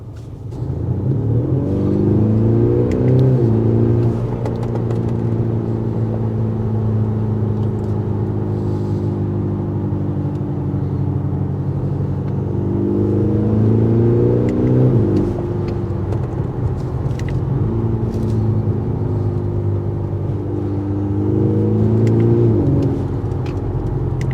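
An Audi SQ5 diesel accelerates hard, its engine note climbing steadily through the gears in repeated rising sweeps with brief dips at each shift, a loud continuous drone heard from inside the car with no talking.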